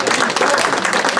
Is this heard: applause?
yes